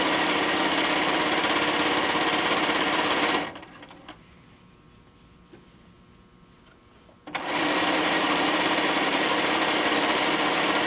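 Sewing machine edge stitching a tote bag panel with an edge stitching foot, running as a loud steady whir, pausing for about four seconds of near quiet, then resuming at full speed.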